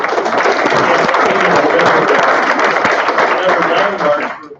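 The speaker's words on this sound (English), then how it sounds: "How about a round of applause for that?" A large audience at a research program kickoff event breaks into loud, sustained applause, dense clapping holding steady for several seconds before tapering off at the end.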